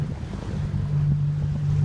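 A Laser-class sailing dinghy runs dead downwind on open water, giving a steady low hum with wind rush and lapping water throughout, loud and close with no talking.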